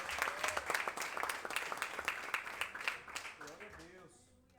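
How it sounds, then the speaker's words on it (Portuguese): A church congregation applauds during a sermon, a dense patter of clapping that fades out over a few seconds, with a voice speaking over it. "Você pode aplaudir ao Senhor por essa palavra."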